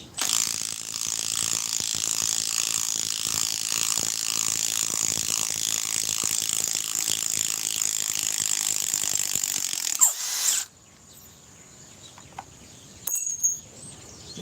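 A stubby ratchet wrench clicks rapidly and evenly for about ten seconds, loud and close, then stops; a few scattered metallic knocks and handling sounds follow in quieter surroundings.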